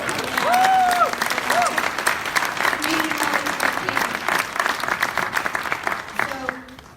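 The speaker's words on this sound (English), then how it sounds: "So give yourselves a round of applause." Audience applause at a Democratic club political forum in Frisco, Texas, a full crowd clapping steadily with whoops and voices mixed in, tapering off near the end.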